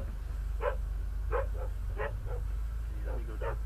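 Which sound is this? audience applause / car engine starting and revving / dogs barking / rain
dogs barking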